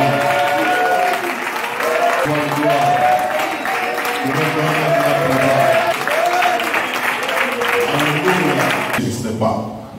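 A church congregation claps and cheers together in sustained, loud applause, with voices mixed in, before the noise fades out near the end.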